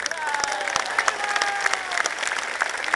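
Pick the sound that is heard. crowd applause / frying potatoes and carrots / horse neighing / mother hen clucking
crowd applause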